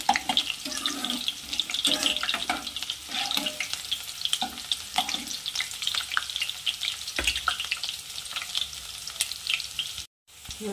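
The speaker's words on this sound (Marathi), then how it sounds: "तेल तापलं आहे। आता यामध्ये आपण कांदा ऍड करू" Onion frying in hot oil for chole, a steady crackling sizzle with scattered pops and stirring scrapes throughout, close and fairly loud, briefly cutting out near the end.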